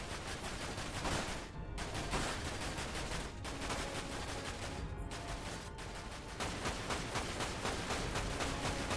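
Gunfire in Dirge of Cerberus: Final Fantasy VII: a steady, dense stream of rapid shots carrying on continuously without letup, with faint breaks and no voices.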